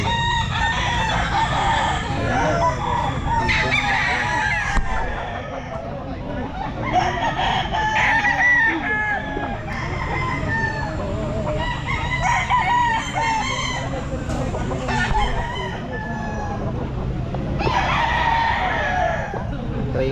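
Several roosters at a gamefowl pet market on Mt. Banahaw Grotto crow repeatedly in overlapping calls, some near and loud, with clucking and someone talking in the background throughout.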